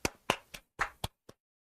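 A small burst of classroom clapping during a lecture: six sharp, separate hand claps with uneven gaps, close and fairly loud, then silence.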